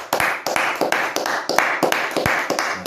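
A church congregation claps in a steady, rhythmic beat of roughly three claps per second, loud and close, keeping time in acclamation during a French-language worship service.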